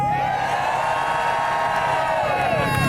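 A crowd at a street gathering of modified cars cheers and screams loudly and continuously to vote for a Ford Focus, a dense wall of whoops and shouts with an engine tone running underneath.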